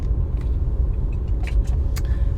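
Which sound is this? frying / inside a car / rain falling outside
inside a car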